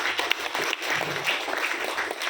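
An audience at a Makar Sankranti stage event applauds to welcome guests onto the stage, a soft, fairly distant patter of many hands clapping that continues throughout.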